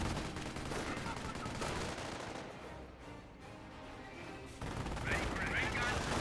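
Rifle squad under fire in Company of Heroes: dense bursts of machine-gun and rifle fire rattle on and off, easing briefly mid-way before a renewed loud volley.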